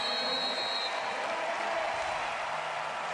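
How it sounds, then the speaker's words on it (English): Players on the American team clap at a wheelchair basketball game after winning bronze at the London 2012 Paralympics; dense, steady clapping fills the hall at moderate distance, with no voices on top. "So clapping by the American team there."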